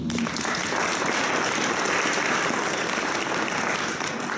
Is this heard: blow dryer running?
no